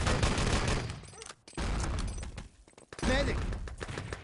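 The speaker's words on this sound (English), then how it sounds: "Nice double grenade comes in from Stray." Grenade explosions and bursts of gunfire in the shooter game Enemy Territory during a competitive LAN match, loud booms and rattling shots in quick succession with brief lulls between.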